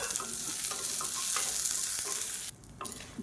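Small shallots fry in a pan, a continuous hiss of oil under light, irregular stirring taps and scrapes, with a brief drop in the sizzle near the end before it picks up again.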